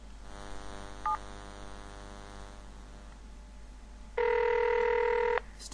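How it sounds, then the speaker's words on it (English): An early-morning telephone call: a few faint dialing tones, then a single loud, steady ring burst over a background of mains hum and static, with no talking. "It's definitely ringing"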